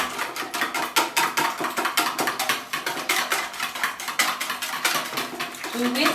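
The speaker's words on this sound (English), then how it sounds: "Then now we are going to whisk our eggs." Eggs whisked in a bowl for a pan-baked cake, a fast steady clatter of metal against the bowl, close and continuous.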